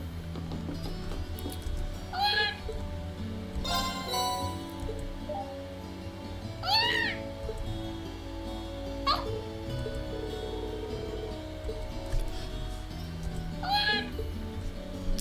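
A cat meows several times in the video game Trails of Cold Steel: short, separate cries, some doubled, rising over quiet background game music.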